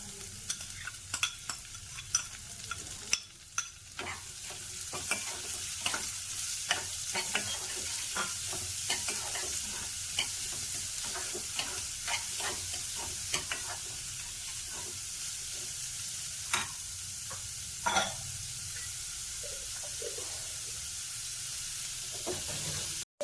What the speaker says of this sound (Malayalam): അപ്പം നമ്മുടെ ഉള്ളി ഒന്ന് ചെറുതായിട്ട് വഴന്ന് വന്നിട്ടുണ്ട്.